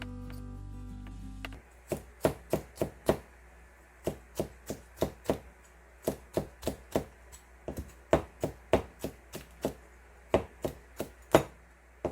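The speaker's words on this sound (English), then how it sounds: "Chop the 청양 chili pepper and red pepper." A knife chops cheongyang chili pepper and red pepper on a board, sounding as crisp, close taps in quick irregular bursts with short pauses between runs, and no one speaking.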